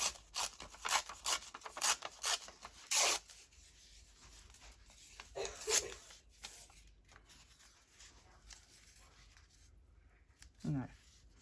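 Paper pages for a junk journal being torn by hand: several quick ripping bursts close up, then quieter rustling, with a brief voice near the end.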